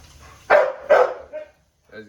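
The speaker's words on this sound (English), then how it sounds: "This dog is barking so damn loud." Two loud, close dog barks in quick succession, followed by a softer yip and a short low whine, heard outdoors at feeding time with no talk over them.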